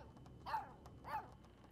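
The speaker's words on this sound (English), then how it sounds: "But she barks when she wants to pee." A dog in Life Is Strange 2 gives two quiet, spaced barks, soft and slightly distant over a low background hum.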